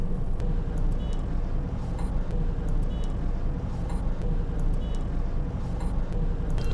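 Heavy city traffic heard from inside a car creeping forward in first gear, a steady low road and engine rumble with a few faint clicks and distant vehicle noises, no talking.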